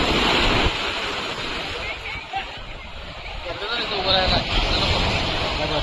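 Sea waves washing at the Rameshwaram shore by the Agni Theertham bathing area, a steady near wash of surf mixed with wind buffeting while people talk.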